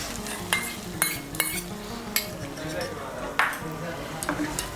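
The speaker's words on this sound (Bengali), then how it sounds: "টক দইটাকেও ভালো করে মিশিয়ে নেব" Yogurt is stirred into a turmeric and chili powder spice mix, giving close, repeated spoon clinks and scrapes against a bowl in an irregular rhythm, with a faint sizzle underneath.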